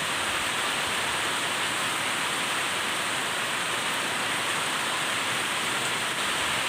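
Heavy rain pours steadily outdoors as a dense, even hiss that holds at the same level throughout, with no voices.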